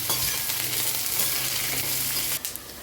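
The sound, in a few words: roasting spice mixture with cumin in a pan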